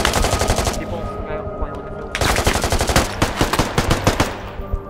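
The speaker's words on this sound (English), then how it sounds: "There's definitely one more with a MG. Big one. Big MG." Heavy machine gun fire in the military shooter Squad, long loud bursts of rapid automatic shots with a short lull in the middle, a clattering firefight close by.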